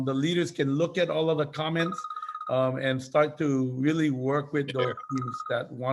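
A telephone rings in a home, a steady repeating electronic tone sounding faintly in the background beneath continuous close conversation.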